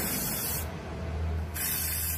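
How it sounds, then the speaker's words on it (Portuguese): Spray paint hisses from an aerosol can onto a glass bottle in two bursts, a sharp close-up spray, then a short pause, then another spray, alone with no talk. "E pra mim passar tinta spray não tem muito segredo."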